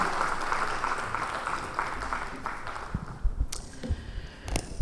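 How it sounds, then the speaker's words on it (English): Steady applause from a crowd in a chamber at an annual general meeting's award ceremony, a broad continuous clatter of clapping that thins slightly toward the end. "can we have a huge round of applause once again"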